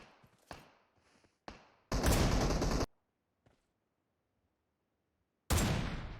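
Gunfire in the PUBG Mobile video game: a few sharp single shots, then two loud sustained bursts of fire, close and dominant, separated by near silence.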